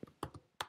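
A few quick taps on a computer keyboard while a search is typed, close and light, three or four separate clicks with short gaps and no voice.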